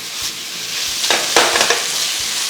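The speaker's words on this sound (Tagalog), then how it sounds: "Tapos ilagay na natin kagad yung chicken. Lutuin mo lang itong chicken hanggang sa mag-light brown na yung kulay." Chicken frying in a pan for chicken fried rice, a steady close hiss of hot oil with a few brief louder crackles and stirring scrapes, no talking.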